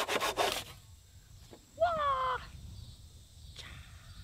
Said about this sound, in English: cut the excess off with this handy dandy Japanese saw